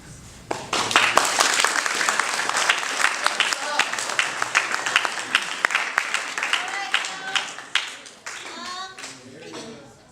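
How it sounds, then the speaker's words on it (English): A crowd claps energetically after a presidential platform presentation, many hands at once, then the applause thins out toward the end with a few voices calling out. "another round of applause for it"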